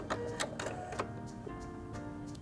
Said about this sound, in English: Press my thread cutter button to trim my threads.